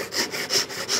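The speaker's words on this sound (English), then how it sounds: "Even with the mitre box, make sure, see I'm going deep on this side so that it's guiding my saw for perpendicularity." A hand saw cuts wood held in a mitre box for a raised faceted star, with three close, steady back-and-forth rasping strokes in quick rhythm and no talk.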